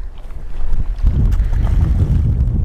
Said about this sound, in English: This wind has made it impossible for us to fish